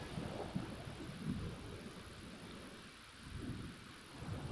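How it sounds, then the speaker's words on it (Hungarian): Thunder rumbling during a lightning storm in The Sims 4, a low continuous roll with rain-like hiss, fairly faint and distant, swelling and fading in waves. "Ó, mekkora villámlások."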